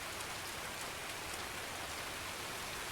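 Heavy, loud rain in the video game Escape From Tarkov, a steady dense hiss of drops pattering on surfaces that fills the scene evenly from start to finish.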